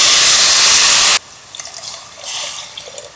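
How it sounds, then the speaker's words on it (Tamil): Rice-washing water for cooking black kavuni rice pours loudly in a strong, splashing stream for about a second, then stops, leaving only faint drips and small trickles. "அரிசி களைஞ்ச தண்ணி ஃபஸ்ட்டு அளந்து ஊற்றிக்கலாம்"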